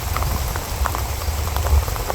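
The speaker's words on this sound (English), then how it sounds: "it is raining really hard" Heavy rain falls in a Malaysian forest near a river, a steady dense patter of drops with scattered louder splashes, continuous and fairly close.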